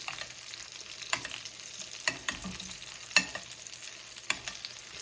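Salmon fillet sizzling in a pan with thyme while being basted, a steady crackling fry broken by sharp spoon scrapes and clinks against the pan at irregular intervals, close and moderately loud with no talk.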